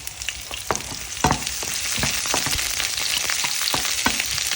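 Mushrooms fry in a pan with a loud, close, continuous sizzle, dense crackling and quick stirring scrapes throughout, no voices.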